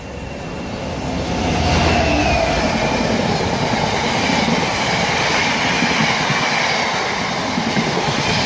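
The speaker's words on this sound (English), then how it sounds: "And the Hereford train is now passing." A train bound for Hereford rumbles past nearby on the Great Western Main Line at Langley, building quickly into a loud, sustained roar with rhythmic wheel clatter and a faint metallic squeal, steady throughout.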